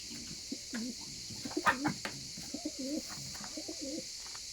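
Several soft King pigeon coos repeat in low, throaty phrases at close range, with a faint steady hiss in the background.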